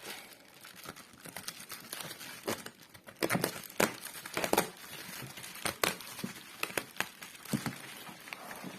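Plastic wrap on a board game box crinkles and tears as it is peeled off by hand, coming in irregular bursts of close, crisp rustling with brief pauses between the pulls.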